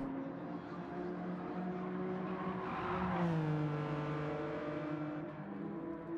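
A Hyundai Genesis GR4 race car spinning its wheels in Gran Turismo, heard as a sustained high engine whine whose pitch climbs, dips and rises again, loud and close with no talking.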